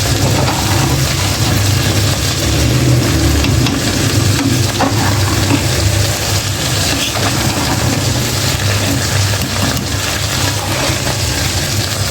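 Khichuri cooking in a pot gives off a steady, loud sizzling and bubbling hiss that never lets up, with no voices over it.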